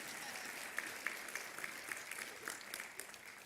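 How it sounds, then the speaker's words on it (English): Graduates applaud themselves at a 2023 university commencement ceremony, a broad, even crowd of clapping heard from a distance with occasional crisp individual claps. "Clap for yourselves, please."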